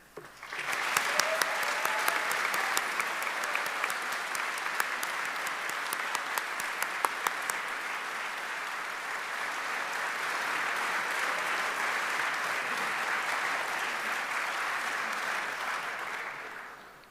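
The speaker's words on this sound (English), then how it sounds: "I am sure you would like to join me in giving them a warm round of applause" Sustained applause from a large audience at a graduation ceremony, with dense steady clapping that starts sharply, stays even for about sixteen seconds, then tapers off at the end.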